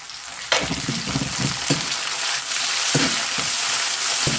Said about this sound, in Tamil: ஒரு பெரிய வெங்காயம் கட் பண்ணி வச்சுருக்கேன் நல்லா பொரியட்டும்